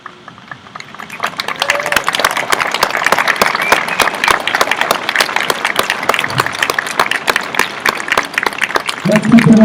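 A large crowd at an eighth-grade graduation ceremony for the class of 2021 claps continuously, a dense, loud, even patter of hands sustained for several seconds.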